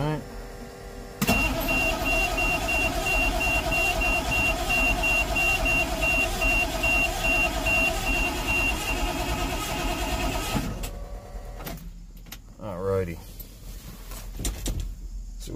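A Detroit Diesel engine cranks over steadily on the starter with a loud, continuous churning rhythm for about ten seconds, then stops, leaving quieter clicks and brief voices.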